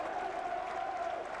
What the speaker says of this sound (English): the crowd have gone absolutely bananas here